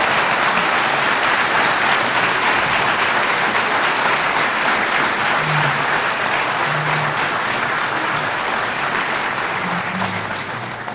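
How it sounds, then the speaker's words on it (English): Sustained, dense audience applause at a fire rescue recognition ceremony honoring the Firefighter of the Year, steady and full throughout before easing slightly at the end. "Another round of applause for your Firefighter of the Year."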